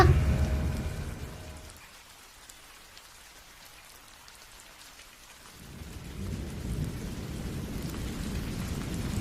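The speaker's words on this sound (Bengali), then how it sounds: "প্রচন্ড ঝড় বৃষ্টি বইছে।" A heavy thunderstorm rumbles with a loud thunder roll at the start that fades. Then steady downpour hisses on and builds again, with no voices.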